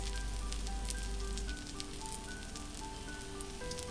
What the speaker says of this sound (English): I don't know if you can hear the sizzle, but it sounds and smells delicious